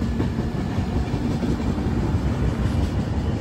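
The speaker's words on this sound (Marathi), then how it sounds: "मालगाडी जाते, तिचं क्रॉसिंग लागले" A freight train passes at a railway crossing near Vinhere, heard from the passing Mandovi Express as a loud, continuous rolling roar and rumble with no break.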